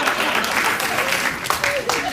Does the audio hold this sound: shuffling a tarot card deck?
no